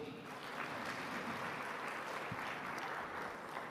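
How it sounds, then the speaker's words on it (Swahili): A large audience claps at an African food systems forum at the State House in Dar es Salaam, a steady, dense round of applause filling the room, sustained at an even level with no speech. "Naomba tuwapigie makofi"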